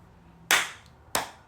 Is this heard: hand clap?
yes